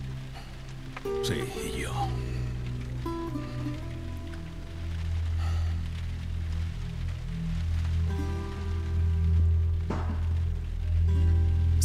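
Rain falls steadily in The Last of Us Remastered, a soft continuous patter beneath low ambient rumble and music, with characters speaking briefly over it.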